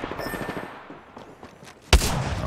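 Gunfire in the battle royale game Apex Legends: a sudden loud burst of shots hits near the end after a stretch of quieter game ambience.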